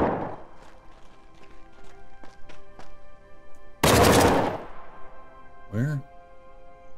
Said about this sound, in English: Okay, who the heck is shooting? Somebody up there.